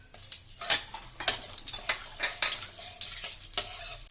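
Nigella seeds, cumin and green chilies frying in oil in a pan for a Bengali tel koi fish dish, a steady crackling sizzle broken by sharp pops and the scrape and clink of a stirring spoon.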